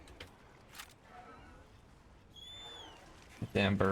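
A bird in a video game gives a brief warbling, whistled call. It sounds thin and moderately distant over quiet game ambience, and a short burst of talk follows at the end.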